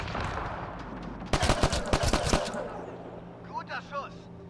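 Rapid bursts of gunfire in the sci-fi shooter Mass Effect Andromeda, a dense cluster of loud sharp shots over about a second, then fainter pops, with a voice speaking lightly beneath.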